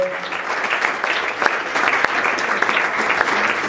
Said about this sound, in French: Applaudissons pour ceux qui ont vécu